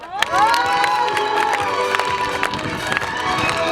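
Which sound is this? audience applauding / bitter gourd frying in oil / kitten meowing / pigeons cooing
audience applauding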